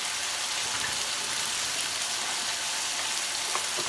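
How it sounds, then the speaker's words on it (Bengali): Fish sizzles lightly in a frying pan with a steady, even hiss that stays fairly soft throughout. "মাছটা দেখো খুব বেশি ভাজবো না, হালকা একটু ভেজে নিলাম।"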